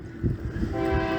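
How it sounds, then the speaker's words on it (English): A train passing by, a steady low rumble with a faint horn-like tone rising near the end, heard in the background with no talk. "that's a train going by"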